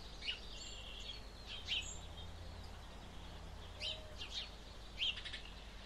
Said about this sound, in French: On se relie au vent, légère brise, au son des oiseaux.